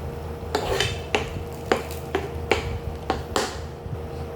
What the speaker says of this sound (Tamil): சேர்த்துட்டு இதை இதோட நல்லா மிக்ஸ் பண்ணணும்